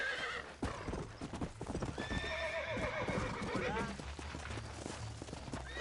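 A horse galloping in a Western ranch video game, with rapid clip-clop hoofbeats, a whinny and snorting close up, and a voice briefly over the hooves.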